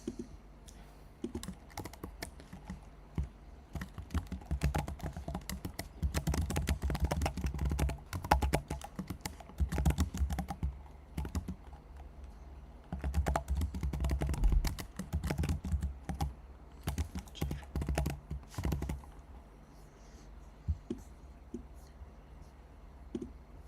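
Quick, light clatter of typing on a computer keyboard in bursts of rapid keystrokes separated by short pauses, close and fairly quiet, with faint talk at times.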